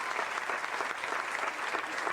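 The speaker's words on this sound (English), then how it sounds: "do you have another round of applause for Kathy?" An audience at a candlepin bowling tribute event breaks into steady, dense applause, a brief continuous patter of many hands clapping at moderate distance.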